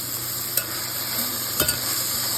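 Chicken sizzles in a pan as tinola is cooked, with a steady close hiss and a few brief stirring clacks.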